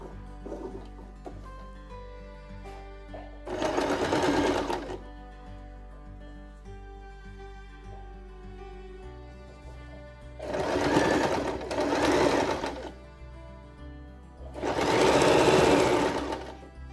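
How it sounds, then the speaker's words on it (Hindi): Sewing machine stitching box pleats into fabric for a frock or skirt, three loud bursts of rapid mechanical whirring separated by quieter pauses with light handling noise. "तो मैं यहाँ से अब इसकी स्टिचिंग लगाती हूँ।"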